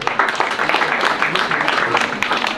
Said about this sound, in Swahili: Tuwapigieni makofi.